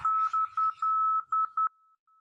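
An ILS marker beacon receiver sounds a clean, high single-pitched tone keyed in alternating Morse dots and dashes, with a short run of pulses that trail off into faint blips at the end.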